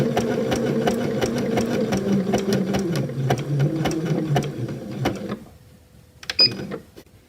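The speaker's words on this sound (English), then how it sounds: "I'm just going to keep the machine setting as it is and use the zigzag stitch" Domestic sewing machine running a zigzag stitch on bunting flags, a steady fast mechanical whir with rhythmic needle clatter for about five seconds, then it stops, leaving a few faint clicks and a brief squeak.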